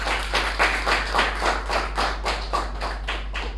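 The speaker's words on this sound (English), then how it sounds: "Can we have a big round of applause for all the table topic speakers?" Audience applause after table topic speakers at a Toastmasters meeting: a steady run of rhythmic claps from a small group, moderately loud and continuous with no talk.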